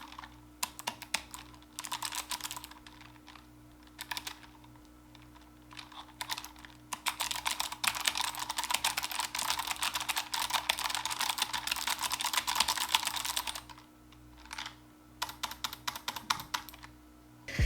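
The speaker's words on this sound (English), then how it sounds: "They have the GL Clicky, the one that I have. Has a real audible click." Logitech G915 keyboard with GL Clicky switches being typed on, close and fairly loud: dense bursts of sharp, clicky keystrokes in fast irregular runs with brief pauses between them, no voices over the typing.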